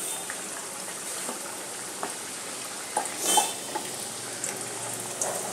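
Potato kachuri frying in hot oil, a steady low hiss of bubbling with scattered soft pops and one brief louder crackle, close and continuous, no talking.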